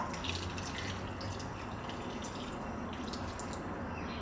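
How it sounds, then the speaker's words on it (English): Hot water runs into pork trotter stew in a pressure cooker, a steady liquid splash and trickle heard close and continuous for a few seconds, with no talking. "now we're just gonna add in half a cup of hot water."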